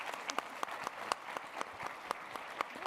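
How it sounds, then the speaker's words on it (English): Sparse audience applause closes a panel discussion at a CES 2025 keynote, scattered individual claps popping out over a steady wash of clapping in a large hall, fairly faint. "give a round of applause to these amazing"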